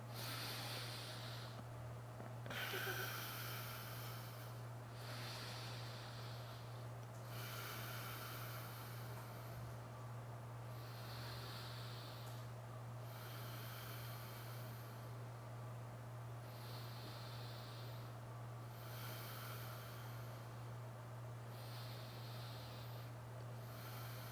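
Slow, deep breaths during a held pose in an advanced vinyasa yoga practice, each long inhale and exhale rising and falling in a steady rhythm over a constant low hum, close and fairly quiet with no talking.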